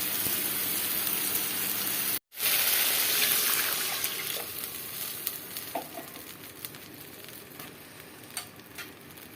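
Potatoes and onion stir-fry with spices in a pan, giving a continuous dense sizzle. The sizzle cuts out briefly near the start, then resumes and slowly fades, with faint clicks of stirring scattered through it.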